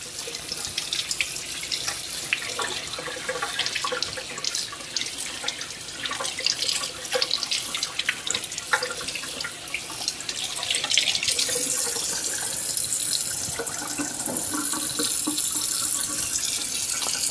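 A kitchen tap runs steadily as salmon fillets are rinsed, giving a loud, continuous splashing flow that brightens and hisses harder toward the end.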